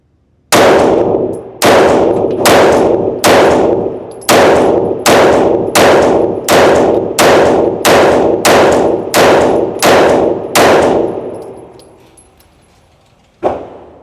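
Shadow Systems CR920XP pistol firing at an indoor shooting range: about fourteen sharp, loud shots in a steady rapid string with ringing tails, a pause, then one more shot near the end.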